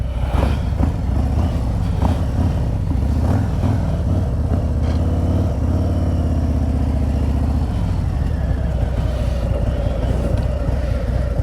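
Motorcycle engine idling and pulling through a tight low-speed U-turn, a steady near rumble with slight throttle changes partway through, no talking.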